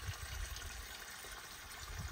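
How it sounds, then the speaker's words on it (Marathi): Steady trickling flow of borewell water irrigating a field of chickpea plants on a farm, a faint, continuous wash with low rumble and no voices. "हरभऱ्याला पाणी द्यायचं काम चालू आहे सध्या."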